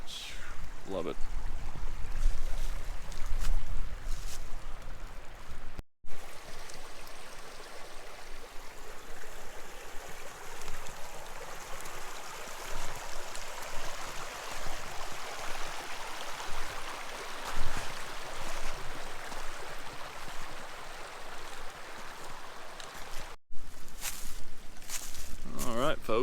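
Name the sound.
creek water flowing over a tiered little waterfall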